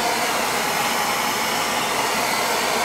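An aging oil-fired water heater burner, fitted with a new nozzle and a trimmed air band, runs with a steady, loud, broadband roar and no break for the whole stretch.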